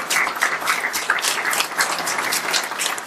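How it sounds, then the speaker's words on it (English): Applause fills a hall at a Thanksgiving and pluralism awards event as the audience claps steadily for an honoree, a dense, even patter with no speech over it. "I want you to give a round of applause for Rabia."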